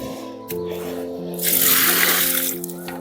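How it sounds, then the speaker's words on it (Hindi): Water gushes steadily onto young tree saplings being planted, a loud rushing pour swelling in the middle of the stretch before easing off. "सो अब इनको हम पानी डाल देते हैं।"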